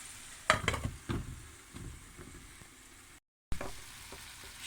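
Spinach fries in a pan with a soft steady sizzle, punctuated by a few sharper stirring scrapes and clicks, close and moderately quiet, with no talking.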